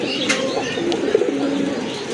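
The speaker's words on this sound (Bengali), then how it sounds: "আরেক জোড়া রাজগোল্লা কবুতর" A pair of red-marked Rajgolla fancy pigeons with crested heads coo softly and close by in a loft, low rolling calls running through the short stretch with no talk.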